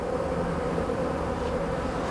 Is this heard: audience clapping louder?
no